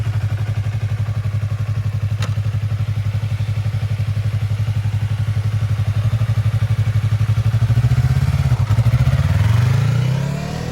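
A motorcycle accelerating during beginner riding practice, its engine thumping in a steady close pulse that builds and climbs in pitch toward the end, loud and continuous with no talking.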